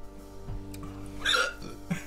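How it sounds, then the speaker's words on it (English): A single short hiccup jerks out after eating hot sauce, a brief close-up gulp over low background hum with no talking. "I already got the hiccup."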